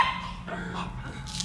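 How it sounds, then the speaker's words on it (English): A small dog barks and yips in the film The 'Burbs: short, close barks and a whimpering note over a low background hum, lasting about a second and a half. "elderly neighbor Walter has gone missing, leaving his precious dog Queenie behind"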